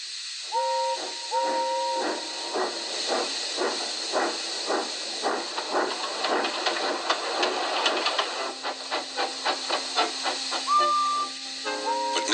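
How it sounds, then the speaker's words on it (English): A steam engine hisses continuously while rhythmic chuffing pulses and short whistle tones sound over it, moderately close. "Gordon came clanking past, hissing rudely."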